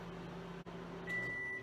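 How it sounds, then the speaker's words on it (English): A steady low hum of a running microwave oven, faint and continuous, with a brief dip and a high electronic tone entering near the end. "now we're waiting for the microwave to finish up"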